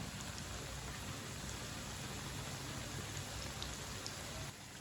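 Meat kebabs fry in a pan over lowered heat, giving a dense, even sizzle like steady rain that runs unbroken for the whole few seconds without any talk.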